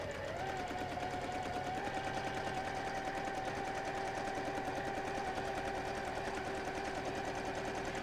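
A sewing machine doing free-motion quilting with tiny stitches, a steady fast continuous mechanical whir and rattle, close and even throughout with no talk.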